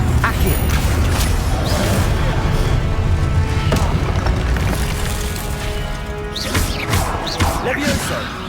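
Spell impacts and blasts from the Confringo blasting spell in Hogwarts Legacy on PC crash repeatedly over a dense bed of game effects, with whooshing casts and sharp bangs near the start and again toward the end.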